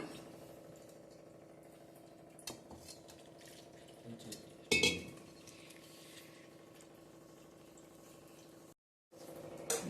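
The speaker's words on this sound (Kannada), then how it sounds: "ಇವಾಗ ಇದಕ್ಕೆ ನೀರನ್ನು ಸೇರಿಸಿ ಕಲಿಸ್ಕೊಳ್ಳೋಣ" Idiyappam rice flour dough being mixed with water in a bowl, quiet scraping and stirring with a few sharp clinks of a utensil against the bowl, faint and intermittent.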